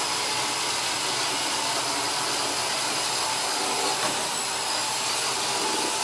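A Roomba robot vacuum cleaner runs steadily with a constant broadband whirring hiss, loud and close, unchanging throughout with no talking.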